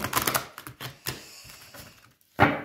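Tarot cards are shuffled by hand in a few quick riffling bursts with short pauses between, close and fairly quiet, ending in one sharper slap of the deck.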